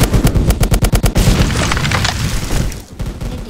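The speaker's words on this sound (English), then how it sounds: "Someone's shooting me." Rapid automatic gunfire in a shooting video game, loud and close: a burst of evenly spaced shots gives way to dense, continuous firing with booming impacts. No speech.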